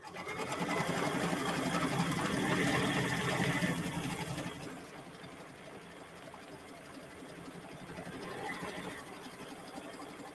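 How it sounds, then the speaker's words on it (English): An embroidery machine stitches the top loop of a letter R onto a holiday sweatshirt, humming at a steady rapid rhythm, louder for the first four seconds and then softer and continuous until the end, with no talk. "So now it's going to stitch the top sort of loop of the R."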